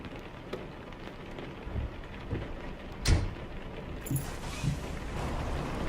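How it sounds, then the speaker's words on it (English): Steady rain in the American Truck Simulator video game, set in the Florida Keys near a fuel stop: a continuous dense hiss of falling drops with a few soft thumps and a brief louder crack, no talking. "But unfortunately, it's raining."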